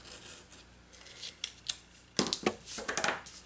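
Scissors snip through washi tape while preparing recipe planner flags, with a few quiet cuts followed by a louder cluster of sharp snips near the end, close and alone.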